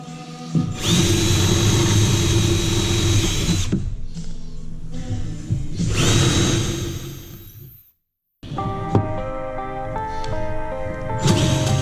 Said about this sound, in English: I'm going to get ready to start drilling holes.